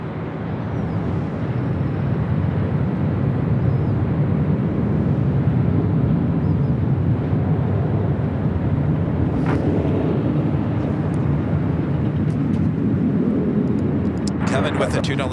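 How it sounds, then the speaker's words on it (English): Boeing 787 Dreamliner taking off from the south side at Los Angeles LAX, a loud, sustained low jet roar rolling steadily on and off the runway at a distance, with people talking over it. "So we don't miss a couple of those Dreamliner south side takeoffs"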